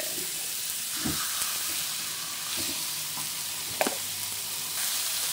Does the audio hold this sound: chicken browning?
yes